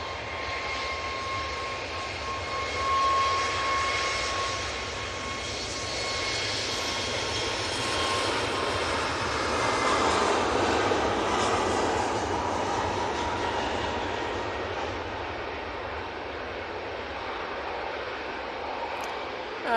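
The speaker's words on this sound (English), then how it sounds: "Next in will be the Qatar 787-9 Dreamliner coming in from Doha." A Qatar Airways Boeing 787-9 Dreamliner lands at Manchester Airport, its engines a broad, steady roar that swells gently and passes at moderate distance, with no talking.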